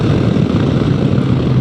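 A 2020 BMW S 1000 XR motorcycle engine droning steadily under load while riding, loud and close with a constant rough hum and wind.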